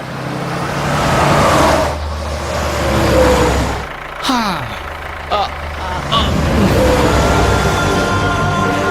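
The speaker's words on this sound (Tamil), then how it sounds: "வண்டி கிளம்புது" A motor vehicle's engine rumbles and then revs as it pulls away, heard under voices.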